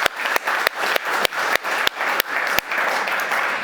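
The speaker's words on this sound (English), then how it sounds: "I think a round of applause at this point." A conference audience gives a dense, steady round of applause, a broad wash of many hands clapping that fills the room for several seconds.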